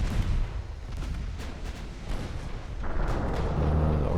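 Heavy naval gunfire from pre-dreadnought battleships in a Germany versus Britain battle in Ultimate Admiral Dreadnoughts, a steady loud rumble of repeated booming salvos that swells stronger toward the end.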